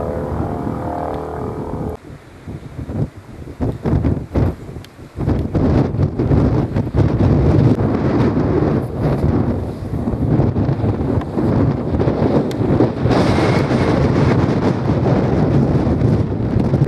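Strong gusts of wind roar across an outdoor microphone at a roadside scene where a vehicle was overturned, a loud continuous buffeting rumble that swells and holds steadily throughout, no voices.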